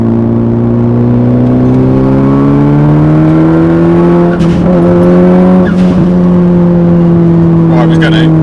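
A Nissan GTiR, fully warmed up and with ongoing problems, accelerates hard at full throttle, its engine note climbing steadily in a loud, continuous rising drone with brief rough bursts partway through.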